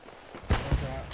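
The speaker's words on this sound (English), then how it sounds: "That's a grenade." A grenade explodes in the World War II shooter Hell Let Loose: two heavy, close booms in quick succession, the second slightly softer, with a rumbling tail afterward.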